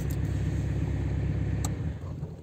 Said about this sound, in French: Tu tournes ta clé, elle s'éteint ta voiture